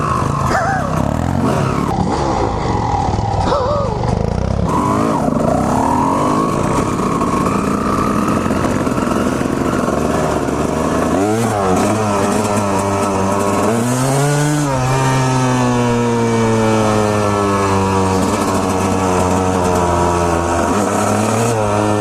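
A dirt bike engine roars and revs hard as the rider kicks it into gear and pulls away, the pitch climbing and sweeping through repeated rising bursts, loud and close throughout.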